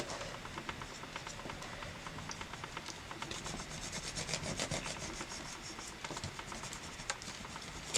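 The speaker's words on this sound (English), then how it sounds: "let's go ahead and burnish this down real quickly" A tool is rubbed back and forth to burnish a craft surface while making a picture-turn-button storage project, a faint, close, rapid scratchy scraping with a rhythmic patter.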